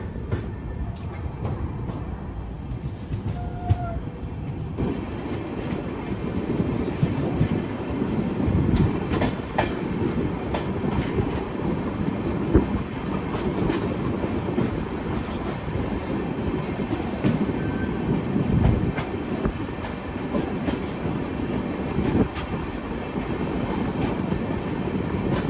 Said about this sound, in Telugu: మహబూబ్ నగర్లో అయితే మన ట్రైన్ బయలుదేరిపోయింది, సిగ్నల్ క్లియర్ అయిపోయింది.